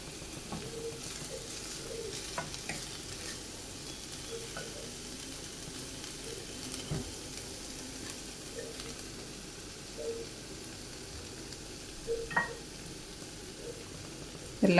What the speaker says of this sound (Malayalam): എല്ലാം കൂടെ ഒന്ന് ഇളക്കി മിക്സ് ചെയ്ത് ഈ പൊടികളെല്ലാം കൂടെ ഒന്ന് വഴറ്റിയെടുക്കാം